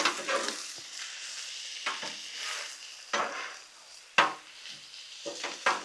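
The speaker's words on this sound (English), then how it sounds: "now I'm gonna mix all this together" Ravioli and meatballs being stirred and scraped together on a Blackstone griddle, a low sizzle broken by several sharp metal spatula scrapes and clacks at irregular intervals, close by.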